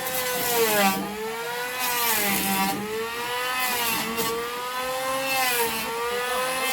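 A power saw whines steadily with a wavering, rising-and-falling pitch as its blade bites into wood for house posts, continuous and fairly loud for several seconds.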